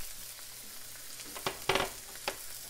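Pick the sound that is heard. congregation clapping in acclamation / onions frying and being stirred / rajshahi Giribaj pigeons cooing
onions frying and being stirred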